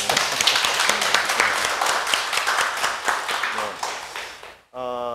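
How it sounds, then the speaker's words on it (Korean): A studio audience at a health talk show claps in a brisk, uneven burst, individual claps distinct and fairly close, fading out before a short pause and a voice beginning. "박수 한번 주시죠"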